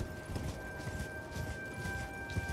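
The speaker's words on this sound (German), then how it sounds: "Reiten wir hier mal kurz durch die Gegend." Horse hooves clip-clopping steadily at a riding pace in the Elden Ring video game, a continuous rhythmic thudding against a low ambient background with faint tonal hum, no talk.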